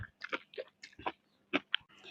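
Someone chews spicy seblak with enoki mushrooms, producing soft wet bites and squishy mouth sounds in short irregular bursts, close and quiet, with no talking.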